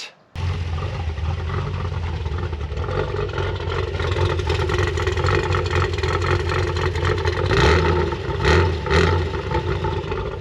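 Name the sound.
slant six engine idling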